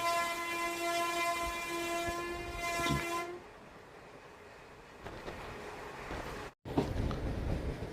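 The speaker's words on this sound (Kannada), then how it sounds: "ನಮ್ಮ ಟ್ರೈನ್ ಈಗ BG ಕೆರೆ, ಬೊಮ್ಮಗೊಂಡನ ಕೆರೆ ರೈಲ್ವೆ ಸ್ಟೇಷನ್ಗೆ ಎಂಟ್ರಿ ಆಗ್ತಿದೆ" A train horn sounds with steady tones for a few seconds, then a train arriving at a railway station rumbles and rattles along the tracks, followed by louder clattering near the end.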